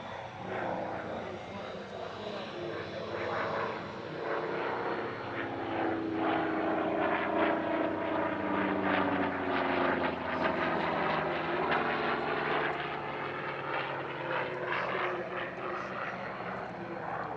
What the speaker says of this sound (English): Now we can enjoy some lovely two-ship formation aerobatics by two of the T-28s, first of all with a barrel roll.